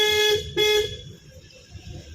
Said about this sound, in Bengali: হর্ন দিতেই দে, হর্ন কোনো সময় বন্ধ থাকবে না।